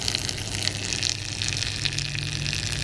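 Falling water driving a small micro hydro turbine on a teaching rig, heard as a steady, continuous rushing gush with a constant low hum beneath it.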